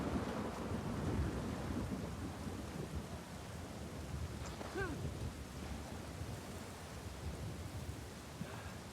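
Rain and a thunderstorm in the Uncharted 4 video game make a steady, quiet hiss of rainfall with low, diffuse rumbling beneath it. The wash is continuous and fairly distant.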